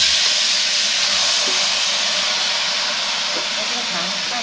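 Pickled ginger tipped into a hot wok while ginger candy is being made, giving a loud, dense, continuous hiss of steam and sizzling that holds steady throughout.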